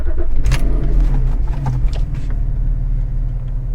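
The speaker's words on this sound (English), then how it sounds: "Just starting up the car, there's a little bit more vibration." A Porsche 911 engine with newly installed engine mounts cranks and catches, settling into a low, steady idle rumble, with a brief jangle of keys near the start.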